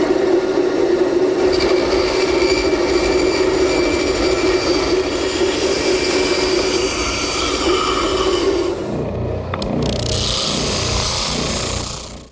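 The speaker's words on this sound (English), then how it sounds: "I'll rough it out at the bandsaw and smooth it up at the spindle sander." Bandsaw and spindle sander shaping wooden parts for a library ladder, heard as a steady loud machine whine and roar that continues almost unbroken, shifting tone near the end as the work changes, with no talk.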